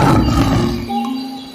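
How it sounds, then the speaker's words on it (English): A lion lets out one deep, rough roar that is loud and close, fading over about a second and a half with no other sounds. "lion"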